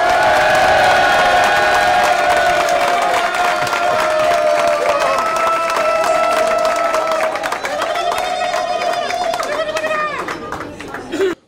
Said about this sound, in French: Pour l'intervention de Ming Li, je vous propose d'applaudir maintenant.